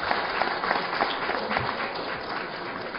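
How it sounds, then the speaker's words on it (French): An audience at a celebration in the USA of the direct Abidjan–Newark flight by Ethiopian Airlines applauds, producing a dense, even roar of clapping from a large crowd that fills the whole span. "je vous demande d'applaudir"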